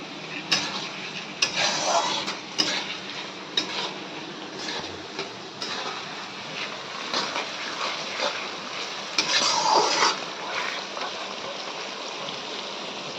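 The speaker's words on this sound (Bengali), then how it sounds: "দেখো এটা কষাচ্ছি, পেঁয়াজটা একটু লাল হোক" Onion sautéing with ground spices in a pan: an irregular run of clicks, scrapes and soft sizzling from stirring, with louder bursts of clatter here and there among quieter stretches.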